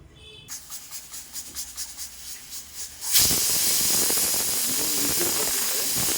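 A pressure cooker of Andhra-style lentil dal (pappu charu) on the stove gives a soft, rhythmic puffing of steam, then bursts into a loud, sustained hissing whistle that holds steadily to the end.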